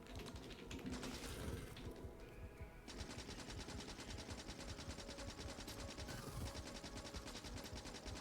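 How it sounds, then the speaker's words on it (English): A machine gun in Factorio fires in a fast, continuous stream of rapid rattling shots, close and loud throughout with no pauses. "Machine gun."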